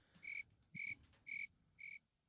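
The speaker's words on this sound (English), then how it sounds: "there was literally crickets going off" Four evenly spaced, loud chirping bursts from an insect or frog-like caller, each about a quarter second long with a clear pitched tone, heard up close against a quiet background.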